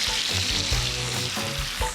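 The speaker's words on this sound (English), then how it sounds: "The chops need to sear" Pork chops searing in a pan give a loud, close, continuous sizzle, with bursts of crackling and spitting fat rising and falling over a couple of seconds.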